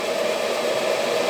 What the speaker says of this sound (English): If I push that across, it's all getting sucked in, so that is working.